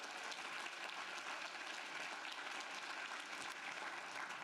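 Audience applause at a summit event, a steady wash of many hands clapping at moderate distance, sustained evenly throughout without talk.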